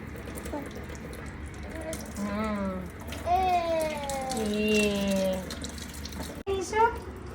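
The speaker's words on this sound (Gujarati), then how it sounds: "પાણીમાં રમે છે?" Running water splashes and trickles while a child squeals and vocalizes playfully, with a brief sharp splash near the end.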